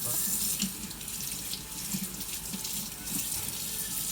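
Tap water runs steadily over a paintbrush as gray paint is rinsed out, a continuous hissing splash of a faucet into a sink with no talking.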